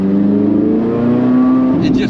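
A Chevrolet Corvette C8 Z06 accelerates hard, its engine a loud, close, steadily climbing roar that holds for about two seconds before easing off, with a brief voice toward the end.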